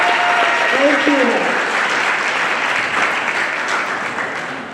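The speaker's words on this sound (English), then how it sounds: "Let's give everyone a big round of applause" Audience at a Law Day debate awards ceremony breaking into applause, a loud, continuous wash of clapping, with a voice briefly heard over it early on, tapering slightly at the end.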